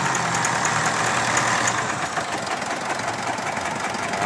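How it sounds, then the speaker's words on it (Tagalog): A loud, steady engine of a Mitsubishi Montero Sport SUV running roughly with a misfire, a constant rumble and rattle, close by and unbroken throughout. "so nagwawala yung makina niya"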